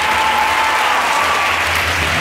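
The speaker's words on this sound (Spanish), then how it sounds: "Los aplausos son para Fran." Loud, steady applause from an audience at a children's queen and mister pageant during town fiestas, greeting a young boy contestant; dense continuous clapping fills the whole stretch with no speech.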